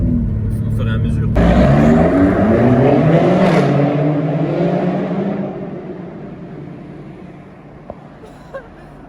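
BMW X6M Competition tuned past 750 hp with an Akrapovic exhaust, accelerating hard with a loud deep rising engine roar and gear-shift steps, fading into a lower rumble, with people talking over it.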